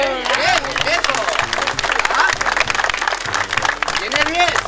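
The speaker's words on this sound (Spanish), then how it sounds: "un aplauso para la niña" A group claps for a girl during an outdoor street class, the applause running throughout while voices talk and exclaim over it.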